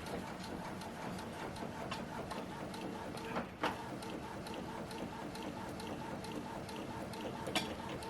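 A DTF printer works on cotton, giving a steady mechanical whir with rapid repeating ticks and a couple of louder clunks of the print head moving back and forth, close by.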